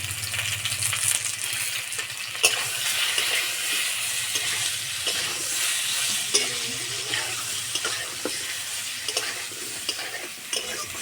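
Sliced ridge gourd fries with a little turmeric powder in a pan, giving a steady close sizzle with intermittent stirring scrapes and light clinks throughout, no talking.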